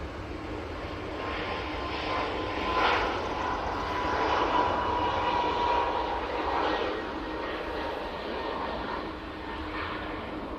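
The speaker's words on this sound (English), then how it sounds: "Ryanair now on the roll. Using 737 MAX 8." A Ryanair Boeing 737 MAX 8 jet rolls for takeoff at Manchester Airport with a steady, moderately distant engine roar that swells gently and holds for about ten seconds, with no voices.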